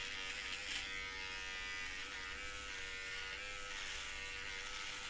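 An electric hair trimmer buzzes steadily and close by as it cuts hair during a home haircut. The hum is faint and even and continues without a break. No voices are heard.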